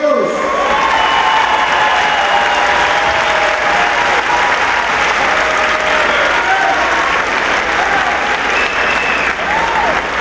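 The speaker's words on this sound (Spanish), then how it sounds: "me acompañen con un aplauso a Dios." A campaign rally crowd at a closing event breaks into steady, loud applause that holds for the full stretch, with faint voices and scattered cheers underneath.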